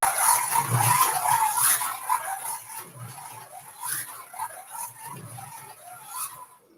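A noisy slot car whines and buzzes around a plastic track, rising and falling in repeated passes at moderate loudness, with a high steady tone running underneath.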